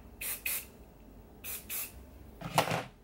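Short hissing bursts of hairspray are applied to styled hair, with two paired sprays, a pause, two more, then a longer rougher spritz, all close and fairly quiet with no talking.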